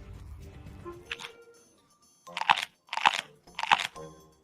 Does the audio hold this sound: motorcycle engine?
no